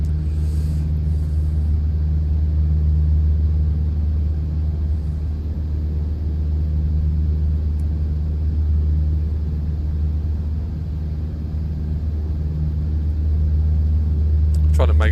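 Cessna 152 engine droning steadily during a slow climb in Microsoft Flight Simulator, a constant low propeller rumble that holds at an even level throughout.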